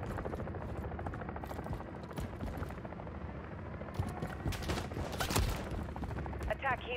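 Attack helicopter in Modern Warfare III rumbles overhead amid heavy gunfire and machine-gun bursts, a dense, continuous battle din with sharper shots cutting through near the end; voices can be heard under the noise.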